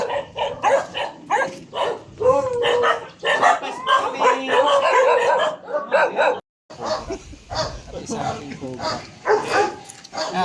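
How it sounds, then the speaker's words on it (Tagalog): Large dogs bark repeatedly and loudly at close range, with yips and whimpers mixed in among people talking, near a rural spot where cobras were caught; a short silent gap falls midway before the barking resumes. "Lalaki ng mga aso."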